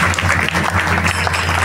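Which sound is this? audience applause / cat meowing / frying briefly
audience applause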